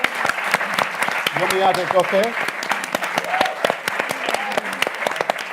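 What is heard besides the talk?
audience applause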